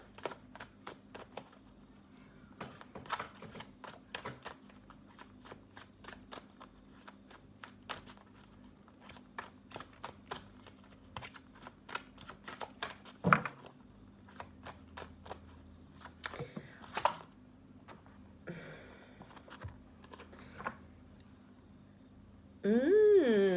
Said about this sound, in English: within that sacred pause of shuffling and waiting for the cards to come through